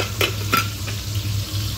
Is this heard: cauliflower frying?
yes